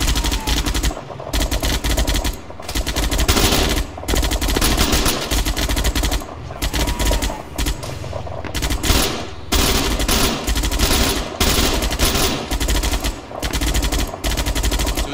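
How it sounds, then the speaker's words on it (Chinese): ArmA battlefield gunfire as machine guns rake from the east woods, loud sustained bursts of automatic fire broken by short pauses, repeating across the whole stretch with no voices. "东侧树林开始扫射"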